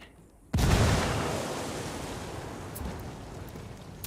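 Frag grenade blast in the video game Ghost Recon Wildlands: after a quiet moment, one sudden loud explosion hits, then a long roaring rumble that slowly fades.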